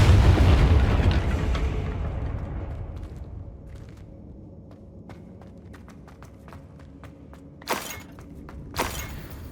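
A Confringo fire spell cast in Hogwarts Legacy, opening on a loud, rumbling explosion that fades into a low roar with scattered small crackles and debris hits, followed later by two sharper bursts.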